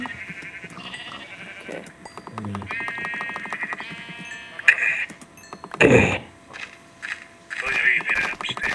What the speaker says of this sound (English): I found a sheep though.